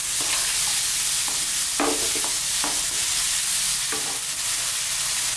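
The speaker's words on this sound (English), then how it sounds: "I'm just on an above medium heat. Just throw this around just for 2 minutes." Onions frying in a pan over above-medium heat for a meatloaf, a steady broad sizzle with repeated scraping stir strokes punctuating it.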